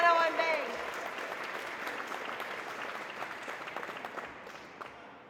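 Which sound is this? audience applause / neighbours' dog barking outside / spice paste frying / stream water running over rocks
audience applause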